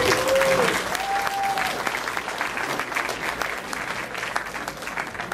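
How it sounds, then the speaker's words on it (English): Sustained applause from guests at an anniversary party for a local newspaper: a full room clapping steadily and fairly loudly, with a couple of brief whistles near the start and murmured voices underneath as it gradually thins out. "So if we can give him a round of applause."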